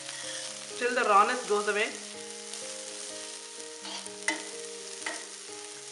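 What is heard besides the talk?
methi (fenugreek) fried rice being stir fried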